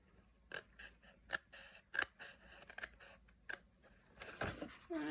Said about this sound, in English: we are now going to snip all of the tabs